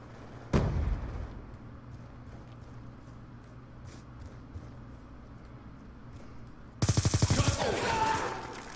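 Gunfire in Call of Duty Black Ops 2: one sharp shot early on, then a rapid automatic burst near the end, loud and close against quiet game ambience.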